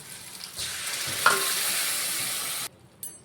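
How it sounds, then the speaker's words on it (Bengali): Ground spice paste sizzles loudly in a pan with fried potatoes, cooking for a Bhola fish curry with brinjal. The steady, close frying hiss holds for about two seconds, then cuts off abruptly. "আমরা মশলাটা ঠিক কষিয়ে নেব 1 থেকে 2 মিনিটের মতো, যাতে কাঁচা গন্ধটা না থাকে।"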